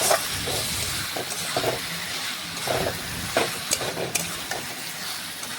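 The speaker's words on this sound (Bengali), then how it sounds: "আমি চিকেনটা দিয়ে দিলাম। ভালোভাবে মিশিয়ে বেশ কিছুক্ষণ চিকেনটা একটু রান্না করে নিচ্ছি।" Chicken sizzles and fries in hot spiced oil for a curry, with a constant crackling hiss and repeated soft scraping and stirring strokes close by.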